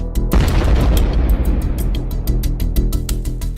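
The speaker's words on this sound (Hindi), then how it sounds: "छोटा ग्रेनेड छोटा धमाका करता है, टैंक के अंदर आग लगनी शुरू हो जाती है।" A small shuttlecock grenade dropped from a drone explodes on a T-72 tank, a sudden loud close blast followed by a few seconds of rumbling, crackling bursts.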